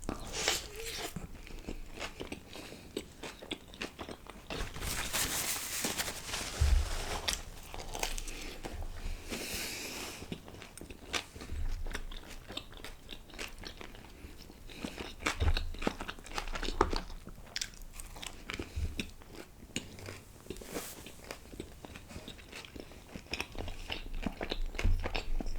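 Someone bites into and chews a Domino's creamy tomato pasta pizza topped with extra cheese, close and crunchy, with continuous crackling, crumbly chewing noises and a few sharper bites standing out in a dense, steady stream.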